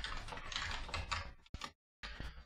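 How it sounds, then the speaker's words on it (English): Close, quiet clicking of computer keyboard keys comes in quick bursts, with a short pause before one more burst of keystrokes. "I'm typing too much,"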